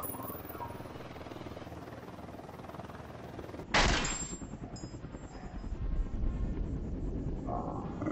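A .50 BMG rifle in the Ghost Recon Wildlands video game fires a single loud, sharp blast followed by a rumbling tail, heard over a steady helicopter drone.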